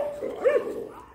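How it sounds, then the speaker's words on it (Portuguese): An abandoned stray dog gives a single short yelp or bark near a highway, close by and brief, rising briefly above a quiet background. "Não conheço o cachorro."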